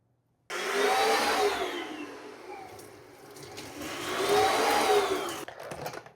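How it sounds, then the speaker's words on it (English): A countertop blender whirs loudly through vegetable soup with garlic, running in two sustained pulses with a brief dip between them and a slight pitch rise as the blades spin, then cutting off. "and blend it. Final spin, let's add our garlic,"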